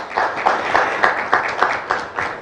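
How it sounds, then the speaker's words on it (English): A crowd at a business breakfast and networking gala gives a short burst of steady applause, many hands clapping together with regular pulses, fairly close and loud, no voices over it. "And we have a clap"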